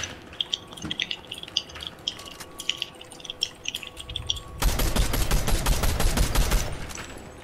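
A submachine gun fires in a fast sustained burst in Fortnite, loud and close, after a few seconds of quieter scattered in-game sounds.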